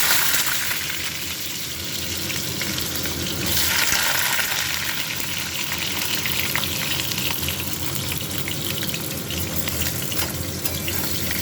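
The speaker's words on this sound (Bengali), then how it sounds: "কড়াইতে তেল দিয়ে দিয়েছি, গরম হয়ে গেছে, আলুটা দিয়ে দেবো" Potatoes hitting hot oil in a wok, a loud, dense, continuous hiss and crackle that surges near the start and then holds steady throughout, close up with no talk.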